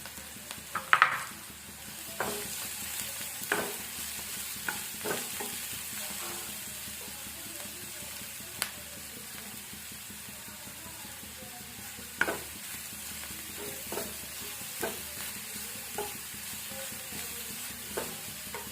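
Carrots sizzling and frying in a pan, with a spatula stirring and scraping in irregular clacks over a steady hiss, close and moderately quiet.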